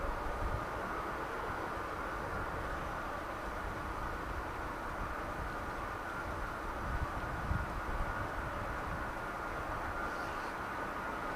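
C-17 aircraft engines run at RAF Lakenheath at night, a constant distant roar with a broadband hiss that holds steady throughout, no voices present.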